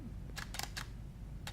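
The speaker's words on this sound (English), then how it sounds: "And so I'll go ahead and take my next picture there." A camera shutter clicks three times in quick succession, then twice more after a pause, each crisp and close over a quiet room hum while settings are changed for ISO test shots.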